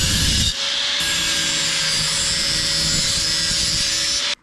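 Border strips for a homemade flex board frame being cut with a power saw: a steady, loud, whining drone with a rough grinding edge runs continuously for several seconds, then stops abruptly.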